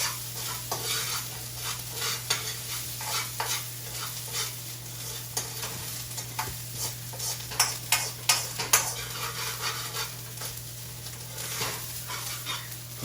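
Chicken fried rice being stirred and fried with browning sauce, a steady sizzle under repeated scraping and stirring strokes that grow sharper and clack more toward the end, with no talking.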